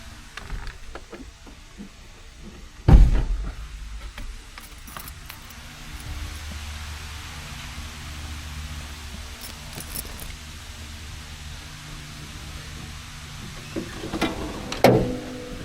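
Keys jangle and the hood latch pops open on a 1981 Oldsmobile 98 Regency, with a sharp clunk early on, faint mechanical rattles through the middle and another cluster of key jingles and knocks near the end, close and fairly quiet.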